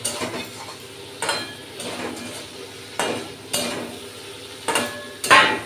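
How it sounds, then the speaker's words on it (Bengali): Eggplant pieces tipped into spiced oil in a pan, stirred with a utensil: repeated scraping and clinking strokes over a soft steady sizzle, close by. "তো এর মধ্যে আমি আস্তে করে বেগুনগুলো দিয়ে দিই"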